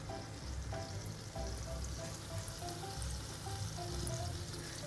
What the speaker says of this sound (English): We'll put these to fry.